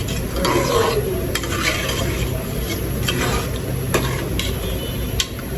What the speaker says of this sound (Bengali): আমি কিন্তু জোরে জাল বাড়িয়ে দিয়ে কষাইছি তারপরও দেখেন বেগুন কিন্তু সিদ্ধ হয়ে গেছে